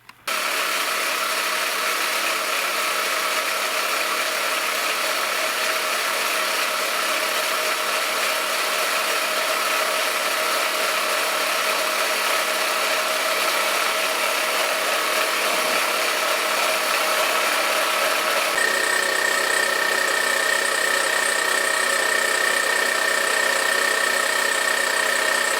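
An engine runs with an added air compressor hooked to it, producing a loud, steady mechanical drone and rattle that shifts in tone near the end. No one talks.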